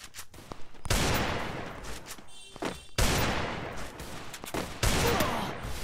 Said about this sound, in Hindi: देखो दो तरफ से पड़ रही है अब तो गोली